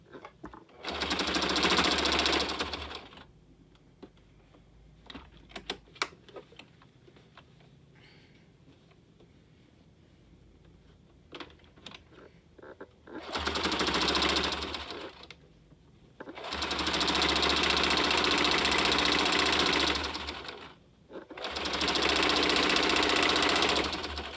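A sewing machine attaches a pocket to a dress in four separate loud runs of rapid motorized stitching, one at the start and three near the end, with quiet handling clicks and rustling filling the long pause between.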